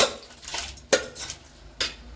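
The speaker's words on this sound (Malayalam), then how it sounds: "നല്ലപോലെ ഒന്ന് ഇളക്കി കൊടുക്കണം" A utensil scrapes and knocks against a metal pot three times in a slow rhythm while stirring rice for coconut rice, with faint background noise.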